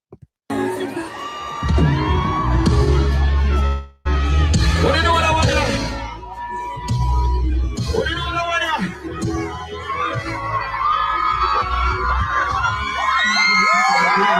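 A large, loud crowd at the Reggaeland dancehall event cheers, shouts and whoops continuously, with a brief dropout before the roar resumes.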